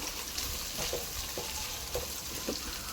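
Beef, onion and leek stir-frying in a pan give a steady hissing sizzle with occasional soft stirring scrapes, moderately quiet and continuous, with no one talking over it.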